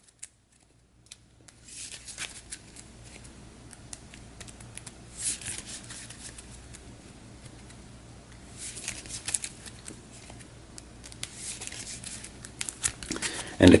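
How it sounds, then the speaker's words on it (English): A tarot deck is shuffled in several bursts of soft riffling and shuffling, close by and quiet, separated by brief pauses with light handling noises. "I've got the tarot deck here in shot for that. So we'll give this a shuffle."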